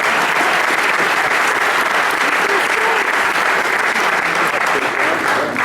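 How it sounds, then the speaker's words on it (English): An audience at a jazz band concert applauds steadily, a dense, loud, even wash of clapping that carries on without pause for several seconds. "Another round of applause for these."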